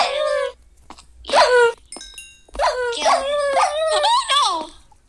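A dog in the Minecraft video game gives a series of short yelps, whines and whimpering barks, close and fairly loud, broken by brief pauses.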